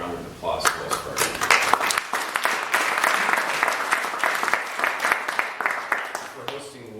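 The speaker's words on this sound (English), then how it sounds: "let's give a warm round of applause for Wells Fargo" A gathering applauds at an event hosted by Wells Fargo, brisk clapping from a modest crowd that swells after a brief lead-in and stays fairly even, with sharp individual claps standing out and faint voices mixed in.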